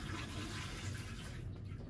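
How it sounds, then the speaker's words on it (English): Rinse water is poured out of a wash basin during a catheter care demonstration, giving a short, close, steady splashing gush that tapers off after about a second and a half. "pour out the rinse water"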